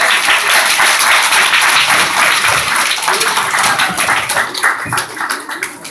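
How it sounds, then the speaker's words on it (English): A crowd claps and applauds loudly and steadily, a dense wash of many hands that thins slightly toward the end. "Give Juno a big round of applause"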